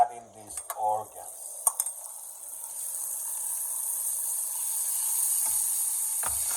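Goose or duck organs dropped into a salted paella pan, a few clatters and scrapes of stirring at first, then a steady soft sizzle of frying that carries on alone.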